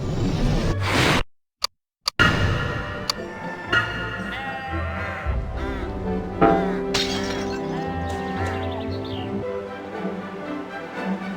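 In the Harry Potter and the Chamber of Secrets video game, a glass jar shatters with a sharp crash early on, followed by tinkling debris and game sound effects, with a character voice speaking over them.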